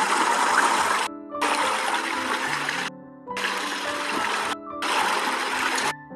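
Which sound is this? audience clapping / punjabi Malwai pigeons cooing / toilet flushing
toilet flushing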